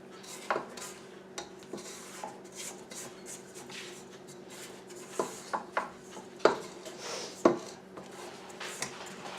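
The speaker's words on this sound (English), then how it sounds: "we're going to scrape the bowl" A spatula scrapes around a mixing bowl of walnut banana cake batter, giving soft rubbing strokes broken by sharp clinks and taps against the bowl's rim, irregular and close.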